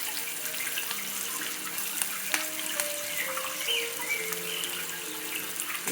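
Onions, curry leaves and green chillies fry in hot tempering oil, giving a steady close sizzle with watery crackling and a few brief tonal clinks, no voices.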